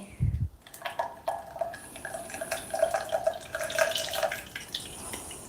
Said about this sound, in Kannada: ಇವಾಗ ನಾನು ಇದನ್ನು ಸೋಸ್ತಾ ಇದ್ದೀನಿ ನೋಡಿ ಇಲ್ಲಿ ಚಾನಿಯನ್ನು ಇಟ್ಟಿದ್ದೀನಿ ಇಲ್ಲಿ ಕೆಳಗಡೆ ಪಾತ್ರೆ ಇಟ್ಟಿದ್ದೀನಿ